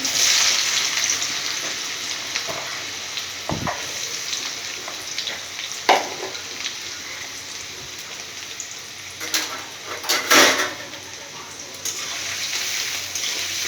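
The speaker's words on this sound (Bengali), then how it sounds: "তেলের মধ্যে পেঁয়াজ দিয়ে দিলাম" Chopped onion sizzles steadily in hot oil in a pan for chow mein, a continuous close frying hiss with a few louder crackles and pops along the way.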